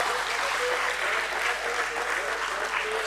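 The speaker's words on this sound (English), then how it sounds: "I think we can give a little more applause" Applause from a crowd at the BSE listing ceremony for Tolins Tyres Limited, a dense, even roar of many hands clapping continuously and loudly throughout, with no break.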